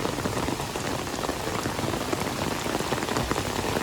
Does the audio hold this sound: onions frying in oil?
no